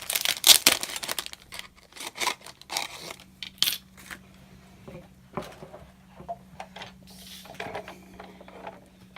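A Big Shot die cutting machine runs a die through with scattered clicks, crinkles and ratcheting mechanical knocks, fairly quiet and close, with no talking.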